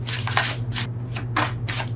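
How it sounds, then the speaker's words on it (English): Tarot cards being shuffled by hand in several quick riffling bursts, close and crisp, with a steady low hum underneath. "One more shuffle."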